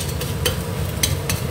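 Eggs and ingredients stir-fried in a hot wok for stir-fried snake beans in spicy sauce: a steady oily sizzle with repeated scraping strokes of the spatula, close and fairly loud, with no voices.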